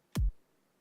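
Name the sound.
layered snare drum sample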